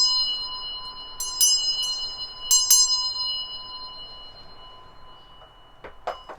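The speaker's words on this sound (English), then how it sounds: "let's go ahead and clear all the energy around with the bell" A bright bell rings out in a few separate strikes, each leaving a sustained shimmering tone that lingers in a quiet room.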